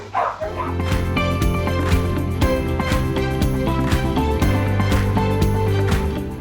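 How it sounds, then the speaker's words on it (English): A two-year-old terrier mix barks in quick, sharp yips, a run of close, loud barks with a rhythmic, repeating pattern that continues across the whole stretch. "She is a 2-year-old terrier mix."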